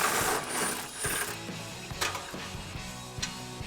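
A ratchet wrench loosens nuts on the frame rail of a Jeep Wrangler JL during a front bumper install, giving quick, close, repeated ratcheting clicks in short bursts with small metallic knocks between them.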